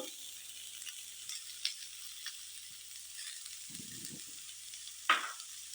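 Potatoes with turmeric, salt and chili powder frying in a pan, a faint soft sizzle with occasional light stirring scrapes and one sharper spatter near the end.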